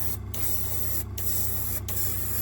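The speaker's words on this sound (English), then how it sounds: "And this isn't the paint needs thinning, this is the airbrush is blocked." A partially blocked airbrush sprays primer paint onto a model railway piece in a steady, continuous hiss, broken by three brief pauses where the trigger is released, close and alone with no talk.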